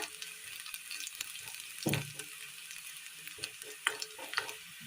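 Dried red chilies and curry leaves frying in hot oil make a quiet, continuous sizzle with crackling pops and a louder spatter as they hit the pan.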